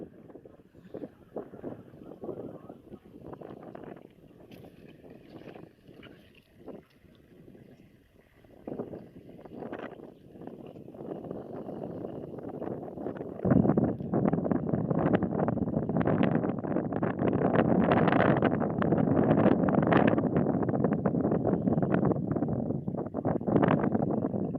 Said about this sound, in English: it's quite windy in the background